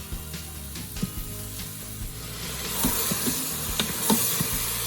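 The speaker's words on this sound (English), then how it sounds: "I'm not going to stir it while it sears the bottom" Steak slices coated in taco seasoning sear in a pressure cooker, a growing sizzle and hiss with scattered clicks and scrapes, close by and getting louder as it goes.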